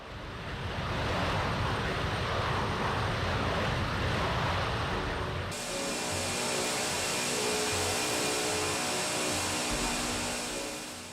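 A Boeing 747 airliner takes off with a loud, sustained roar and broadband rush that shifts in tone partway through, building and holding steady, with no voices.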